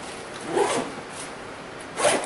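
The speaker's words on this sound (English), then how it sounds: "the zippers work really good" Two quick zipper pulls on a Kifaru Shape Charge backpack, short raspy zips close to the microphone with a pause between them.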